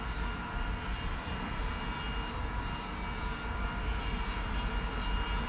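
Steady, continuous drone of an aircraft engine in flight during an Air RB game in the video game, loud and unbroken with deep low rumble throughout, no voices.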